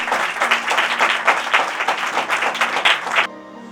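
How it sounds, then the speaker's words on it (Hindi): A congregation at a Sunday church meeting breaks into lively applause, close and energetic clapping that runs for about three seconds and then stops suddenly, leaving a faint electronic tone behind. "आए इस कलाम के लिए भरपूर ताली बजाएंगे जो जोरावर है।"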